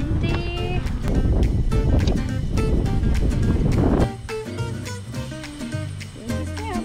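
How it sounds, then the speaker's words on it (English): Strong wind buffets the microphone outdoors in a blustery spot with a loud, rumbling roar for several seconds. It then eases to gentler gusts with faint background sounds. "It is windy."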